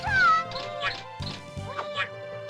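Cat bombs in a video game let out bright, pitched meows over a string of quick thumping impacts, with game voices chattering throughout.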